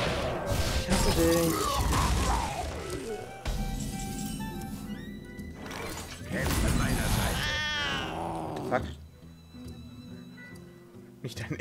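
A cat meows for the Mr. Bigglesworth card in the Hearthstone video game, a few short mews mixed into game music, effects and someone talking over them.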